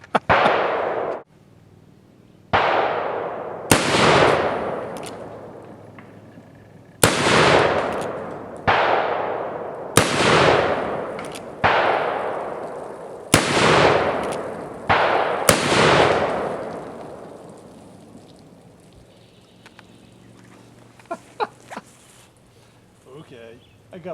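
An EMF Alchemista II revolver fires at tin cans on a fence outdoors: about a dozen loud, echoing shots in uneven succession, then fainter clinks and rustles as the firing stops.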